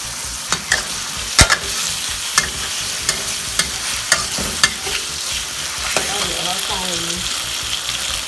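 Pork belly stir-frying with oyster sauce in a pan: steady close sizzle with regular spatula taps and scrapes roughly every half second, a faint voice briefly heard near the end.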